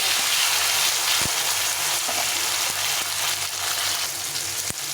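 Tomatoes fry in a pan of cumin tempering with a loud, steady sizzle, close by and continuous, broken by a few sharp clicks of stirring and no speech.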